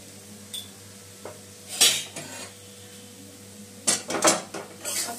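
Moong dal kachori filling is stirred in a pan, a spoon scraping and knocking against the metal in a few irregular bursts separated by quieter stretches, close and clear.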